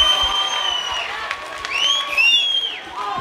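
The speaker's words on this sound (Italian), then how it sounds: "Credo sia doveroso fare un altro applauso." Audience at an international folklore festival applauding, with cheering and high whistling whoops rising over the clapping in short bursts.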